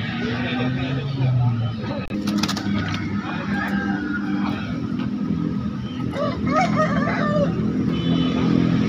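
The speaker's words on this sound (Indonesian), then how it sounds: "kita bisa beberapa jenis ayam bangkok mewah yang terdapat di Pasar Daya." Several Bangkok fighting roosters crow amid the busy Daya chicken market in Makassar, with steady voices and bustle throughout.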